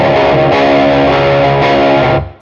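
A distorted electric guitar strikes an open string and lets it ring out loud and sustained for about two seconds, then cuts off abruptly.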